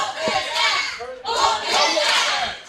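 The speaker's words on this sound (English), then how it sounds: "you hear the crowd here saying some words we can't say on the program" A wrestling crowd at a live show shouts and roars in loud, surging waves, with a brief dip near the middle before the noise swells again.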